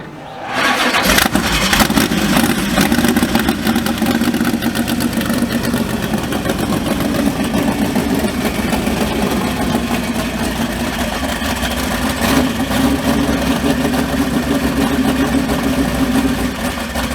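A bog truck engine cranks and catches, then settles into a loud, steady, rough idle running close by for the rest of the clip, with no talking.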